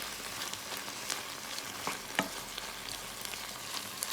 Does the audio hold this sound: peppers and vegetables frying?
yes